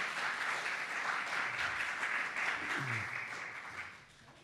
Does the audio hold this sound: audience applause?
yes